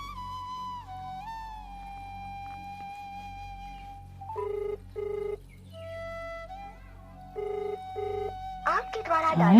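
Telephone tones heard during a call: a steady held tone, then repeated short ringing bursts in a regular pattern, with a voice briefly speaking near the end over a low background hum.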